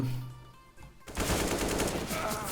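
Automatic gunfire in the game CS:GO erupts about a second in as a dense, continuous rattle of rapid shots that stays loud and close until the end, following a quieter stretch of game sounds.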